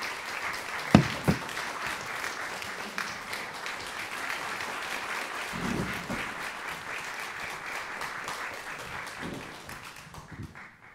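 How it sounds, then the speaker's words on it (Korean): Concert-hall audience applause welcomes a composer onto the stage after a daegeum and piano duo, warm sustained clapping with a couple of sharp claps early on, tapering off near the end. "뜨거운 박수로 맞이해 주시기 바랍니다."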